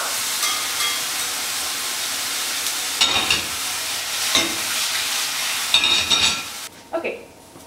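Steady, loud sizzling of ribeye steak frying in a hot pan, with a few clinks and stirring scrapes breaking through before the sizzle cuts out near the end.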